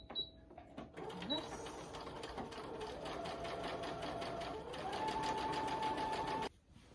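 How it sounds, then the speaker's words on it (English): A sewing machine stitches a narrow seam down a line on pajamas being upcycled, with a steady rapid mechanical whir running for about six seconds, rising slightly in pitch near the end before stopping abruptly. "I'm just gonna sew all the way down this line with a very small seam allowance"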